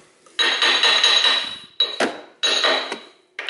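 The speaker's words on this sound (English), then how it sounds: "I have hammer and I carefully hammer that in here" A hammer strikes an engine pulley during a water pump replacement on a 1990–2002 Toyota Corolla: loud metallic clanks and scrapes close by, a long grinding strike then several shorter blows with a bright ringing tone.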